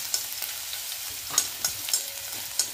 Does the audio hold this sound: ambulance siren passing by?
no